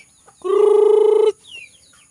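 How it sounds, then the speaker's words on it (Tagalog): On a farm in the early morning, a chicken gives one loud, close, drawn-out call lasting under a second. A brief softer call follows, and quiet surrounds both. "Look at the chicken there."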